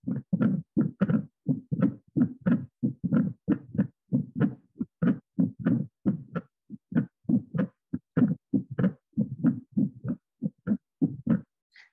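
A heartbeat recorded on the street from sex workers, played as the backdrop for a pole-dance solidarity performance: steady, close, thudding lub-dub pulses repeating evenly throughout with no talking.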